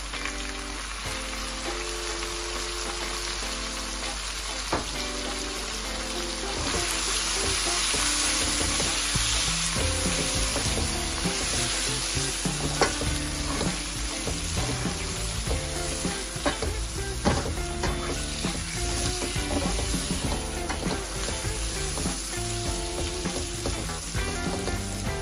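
Steady, close sizzling and crackling of meat sautéing in a hot pan with turmeric, with occasional clinks and stirring scrapes over the continuous hiss.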